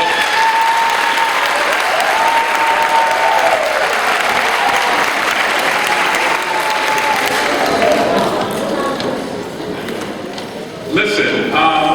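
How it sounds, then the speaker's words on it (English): Audience applause at an 8th grade graduation commencement for Miss Elrod and the team, loud, dense clapping from a large crowd that fades slightly near the end, with voices rising over it in the final seconds. "could all of you give a big round of applause to Miss Elrod and the team here?"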